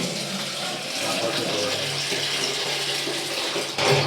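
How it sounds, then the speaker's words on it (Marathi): Water runs steadily and loudly while a container is rinsed clean outdoors near a river, with a continuous splashing wash. "आम्ही माशांसाठी डब्बा स्वच्छ करून घेते."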